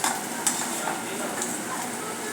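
Sliced onion roasting in a pan for a restaurant-style spinach and pea dish is stirred continuously, producing a brief, fairly loud frying hiss punctuated by quick scraping taps of the spoon, with no voices.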